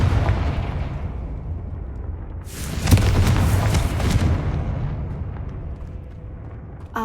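Confringo blasting spell in the Hogwarts Legacy video game, a single loud booming explosion with a sharp burst that rumbles and slowly fades over a low ambient hum.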